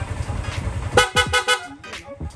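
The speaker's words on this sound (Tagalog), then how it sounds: "Yung loud horn natin" Several short, loud horn toots from a Sniper 155 motorcycle's loud horn in quick succession, close by, after a stretch of engine rumble.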